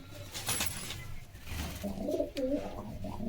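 Pigeons, a female Kalshira among them, coo in soft, throaty bursts, the burbling calls rising and falling close by over a low background hum.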